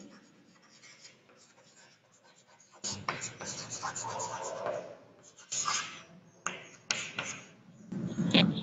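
Chalk or marker scratching across a classroom board during an English revision lesson, in bursts of stroking and tapping strokes, fairly close, with a teacher's voice talking between them.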